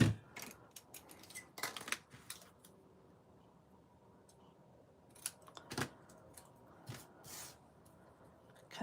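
Quiet, close snips of scissors cutting paper banners for a stamping craft project, coming in short scattered bursts with soft rustling of paper between cuts.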